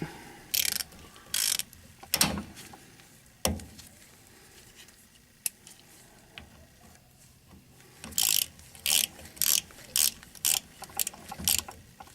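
A ratchet wrench on a differential plug during a differential fluid service: a few clicking bursts, a couple of loud knocks, then a rapid run of close ratchet clicks, with no talking.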